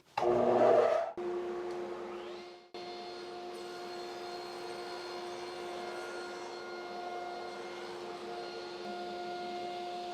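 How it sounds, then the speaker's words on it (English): Table saw with a crosscut sled cutting into a particle board table: a loud whining burst as the blade bites, then a dip, then a long steady humming spin-down, close by with no talking. "I'm going to cut it once and then I'll bring it back and cut all the way through."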